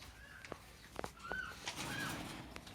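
Racing pigeons at a breeder's loft giving soft coos amid a few wing flaps and light clicks, fairly faint and spread through the short stretch.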